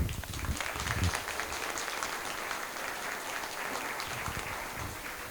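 An audience at the evening flower festival event in Split breaks into warm, sustained applause, a dense wash of clapping that holds steady for several seconds with faint voices underneath.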